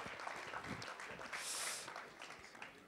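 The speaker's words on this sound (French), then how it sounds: "je crois qu'on peut les applaudir très fort" Audience applauding at a local sports awards evening in Aubagne, a faint, continuous patter of many hands clapping that swells slightly midway, with no talk over it.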